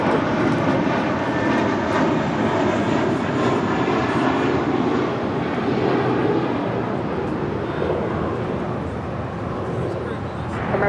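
United airliner on its takeoff run from runway 25 right at LAX, a loud, steady engine roar filling the whole stretch with little variation, while a radio voice talks over it.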